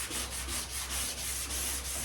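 A sanding block rubs steadily back and forth across a car's painted finish, making a continuous rasping scrape with a regular stroke rhythm. It is close and heard alone.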